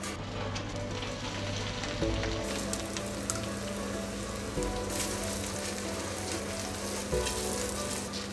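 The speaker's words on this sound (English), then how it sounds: "Wait for the butter to heat up and add the vegetables you roasted in the oil-free fryer." Oven-roasted vegetables sizzle and fry steadily in hot butter in a pan, a close, continuous crackling hiss with a few light stirring knocks.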